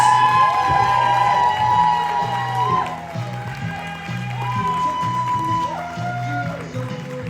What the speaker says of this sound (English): Please, big round of applause for Caroline Laurent